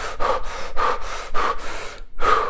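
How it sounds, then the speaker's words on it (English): Deep, forceful Wim Hof method breathing, with five rapid rhythmic breaths drawn in and pushed out close to the ear before a short pause, then another breath. "So you're doing the Wim Hof method or you're doing the Iceman breathing"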